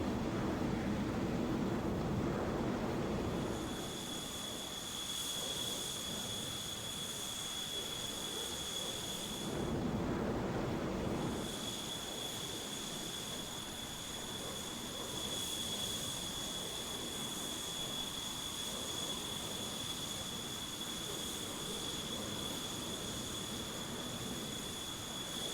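An F-14 Tomcat in Microsoft Flight Simulator 2020, a steady jet engine roar with a high whine running throughout, swelling briefly twice into louder gusts of rumble.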